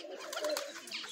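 Pigeons coo in June, several birds nearby including some sitting on eggs, giving a quick run of soft, throaty coos that swell briefly and fade, quiet and without voices.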